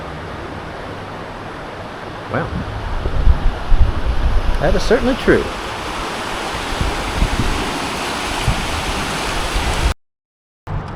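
A creek runs through Buffalo, Wyoming, its broad rushing water noise steady outdoors with wind buffeting the microphone, and someone speaks briefly over it.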